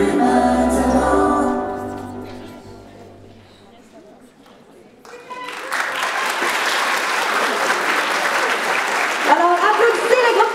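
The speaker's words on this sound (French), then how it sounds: "Alors, applaudissez le groupe 323," After a group's concert, a chorus of voices singing fades out and is followed by sustained, dense audience applause that fills the room for several seconds.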